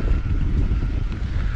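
Warm wind blows across a hillside in the heights above Ascain, a steady low buffeting rush close against the microphone with no voices.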